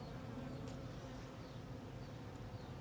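Honeybees buzz in a hive after two colonies have been merged, a dense continuous close hum with no voices.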